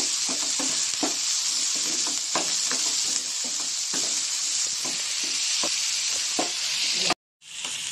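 Capsicum and tomato fry in a pan with a steady close sizzle while a utensil scrapes and stirs through them in repeated knocks, then the sound cuts out abruptly near the end.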